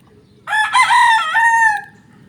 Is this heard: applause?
no